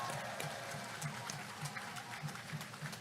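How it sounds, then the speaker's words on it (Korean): A rally crowd applauds outdoors at a political campaign event, distant and faint, a brief patter of clapping with a few louder claps. "그들에게 박수 한번 보내주십시오"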